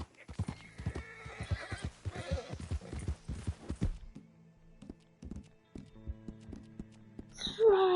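In a video game, a horse's hooves clip-clop in a quick, close run of strikes that slows and stops, with quieter hoof steps after, then a sharp neigh bursts in at the end.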